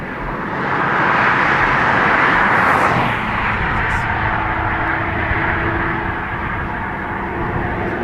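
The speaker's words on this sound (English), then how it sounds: "ATR off to Jersey" An ATR turboprop airliner departs Dublin Airport for Jersey, a loud sustained engine drone with a rising swell and a faint steady propeller tone, heard alone without talk.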